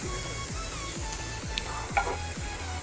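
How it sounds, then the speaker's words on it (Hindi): Garlic sautés over medium heat in a pan for a chilli baby corn dish, giving a steady, close sizzle of frying with soft, regular stirring thumps repeating underneath. "लहसुन को थोड़ा सा इसके साथ भुन जाने देंगे, थोड़ा सॉटे हो जाने देंगे"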